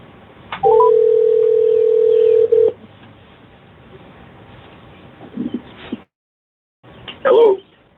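A telephone call being redialed on a cell phone: a long steady tone holds for about two seconds, followed after a pause by short bursts of dial tones and keypad beeps, with a brief silence before a last burst.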